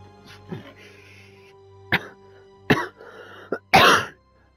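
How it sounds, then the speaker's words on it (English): A character in the Spider-Man Remastered video game gives several short coughs and throat clears, spaced irregularly over a few seconds over a quiet background hum, the last one loudest. "Cough."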